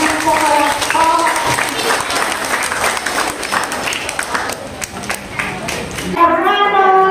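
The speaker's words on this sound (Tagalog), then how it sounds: "O, palakpakan mo naman natin sila. At sisipag mo po palakpak." An audience at a Rosa Mistica church pageant at a chapel applauds in a continuous, crowded wash of clapping, with a voice speaking over it at the start and again as the clapping ends.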